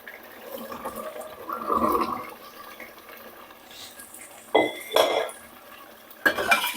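A spoon scrapes and clatters against a metal pot as boiled chickpeas in thick spiced curry are stirred, with a few sharper knocks standing out near the end.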